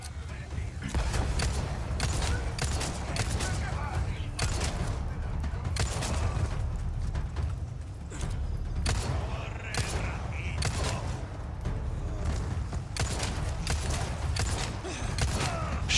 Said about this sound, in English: Shooting right between his legs.